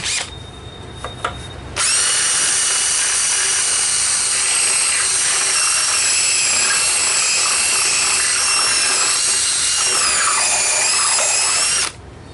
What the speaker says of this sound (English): Let me ream that hole out a little bit.